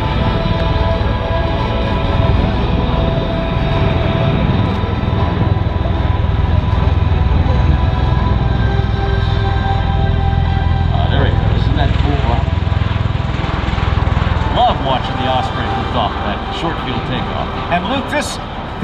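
An MV-22 Osprey tiltrotor roars steadily through takeoff at an airshow, a loud continuous engine and rotor drone with people talking over it.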